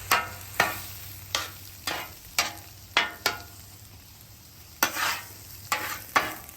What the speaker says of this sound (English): these are going to fry inside the taquito